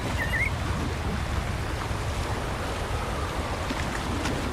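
Rushing water from a really big waterfall in the Wuthering Waves game, a steady broadband roar without pauses, with no talking over it.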